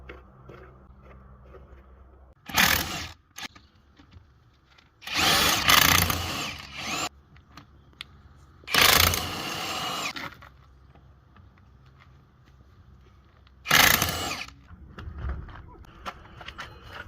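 Impact-style power tool spinning lug nuts off the wheels of a jacked-up van, four separate loud bursts of one to two seconds each, with quiet pauses between them.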